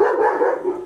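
A single short dog bark or yelp, close and fairly loud, heard on its own without any talking, recorded somewhere in Galicia, Spain.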